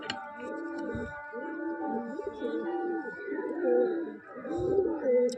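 Pigeons of fine quality, a male and a female with double-barred eyes, coo in low repeated rolling phrases close by, with a steady faint hum underneath.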